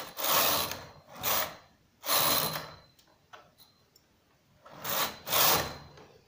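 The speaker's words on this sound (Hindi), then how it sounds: "ये आगे कर दी हमने, 3 सिलाई लगा लेते हैं इस पर।" A manual knitting machine carriage slides back and forth across its needle bed, making three rasping, whirring passes for three rows of stitches: two close together, then a pause with small clicks, then a third pass, loud and near with no talk.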